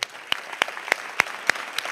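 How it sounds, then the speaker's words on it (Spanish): Sparse, separate claps from an audience at a Virgen del Carmen proclamation speech, about six sharp hand strikes spaced evenly over a quiet room tone, moderately near, with no voices. "este sentido y cariñoso reconocimiento vaya para ella en este profundo aplauso"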